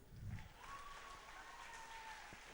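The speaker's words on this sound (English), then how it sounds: "Another round of applause, please." Light applause from a crowd at a Mrs. World Kenya pageant, steady and fairly distant, with a faint tone and some murmuring mixed in.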